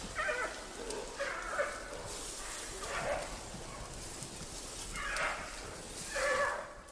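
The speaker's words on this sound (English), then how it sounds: "From the growls, it's obvious the males will have no energy left for fighting, as Lulu does with the females in Wulong." Male giant pandas in Wulong, China, growling in five rough, moderately loud bursts spaced through a steady background hiss.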